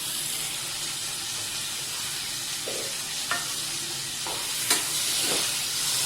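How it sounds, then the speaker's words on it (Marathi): Carrots, tomatoes and green beans go into a hot pressure-cooker pot for quick khichdi, giving a steady sizzle with a few soft stirring clatters and knocks close by. "आता त्यात आपण ह्या भाज्या टाकून घेणार आहे गाजर आहे टोमॅटो आहे फरसबी आहे"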